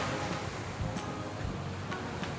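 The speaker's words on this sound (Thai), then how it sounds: "วันนี้คลื่นแรงเป็นพิเศษเลยนะเนี่ย" Ocean surf on a Thai beach on a windy day with rough, strong waves, heard as a steady broadband wash with soft swells and breaking surges, moderately loud with wind noise mixed in and no talking.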